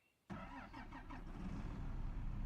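A truck engine in Farming Simulator 25 cranks and catches abruptly, then settles into a rough, steady idle that gradually builds a little louder, close and alone without talk.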